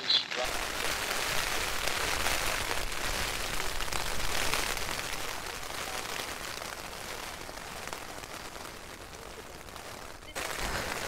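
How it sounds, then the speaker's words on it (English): Steady rain pattering on a Mountain Laser Design Duomid tent at a wet wild camp in the Lake District, a dense continuous hiss with close drop taps that runs for the whole stretch and stops abruptly near the end. "gotta get the rain sometimes."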